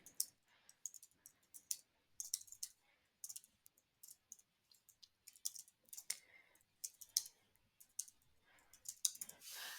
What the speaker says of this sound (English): So I'm going to go ahead and type in my table really quickly here.